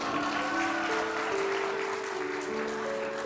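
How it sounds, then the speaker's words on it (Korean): Clapping from a congregation at a church youth service, continuous and moderately loud, with a few sustained tonal hums running underneath. "자, 이삭이 한 번 박수 한번 주세요."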